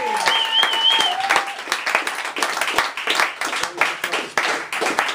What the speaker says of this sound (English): Clap it up, baby.